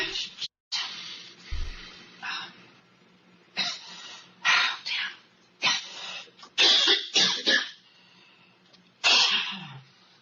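Repeated harsh coughs and forceful breathy exhalations, close and loud, coming in separate bursts with brief quiet gaps between them.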